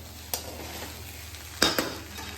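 A spoon stirs ghee through jeera rice in a pan, giving two or three short scraping strokes over a soft, steady sizzle.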